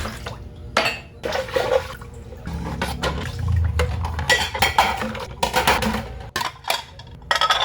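Dishes are rinsed with water scooped from a bucket using a dipper: irregular splashes and pours alternate with clinks of dishes and utensils, close by, without talk.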